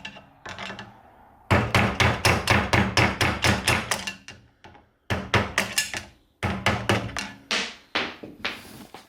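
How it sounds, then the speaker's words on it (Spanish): A hammer strikes a screwdriver to knock a silent block out of a car's suspension: rapid runs of sharp metallic blows, close and loud, broken into bursts by short pauses. "con un martillo y con un destornillador,"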